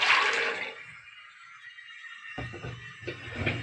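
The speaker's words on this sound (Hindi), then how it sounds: "अब इसमें हम चने डालेंगे" Whole dried chickpeas dropped into a pot of water, a quick splashy pour at first, then a few brief rattling splashes after a short pause, close and moderately loud.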